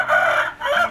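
A young Indio Gigante rooster on a giant-breed chicken farm in Temanggung gives a short, loud, close crow in two rising bursts.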